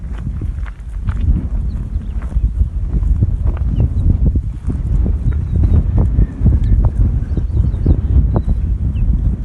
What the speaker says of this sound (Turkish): Bugün biraz rüzgar var.